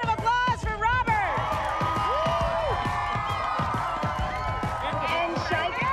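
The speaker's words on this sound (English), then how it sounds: "How about a bigger round of applause for Robert?" Crowd cheering, whooping and clapping at a ski race awards ceremony in Vail, loud and continuous, with shouting voices mixed through the applause.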